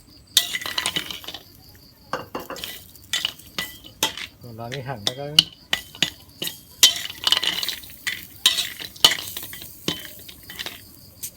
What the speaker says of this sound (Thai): เอานี่ไปคั่วครับคั่วมันหอมครับ